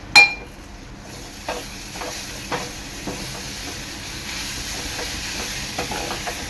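Fish masala paste frying in oil in a pan for an Agri-Koli methi bombil dish, a low steady sizzle with occasional soft stirring clicks, close and fairly quiet, no voices.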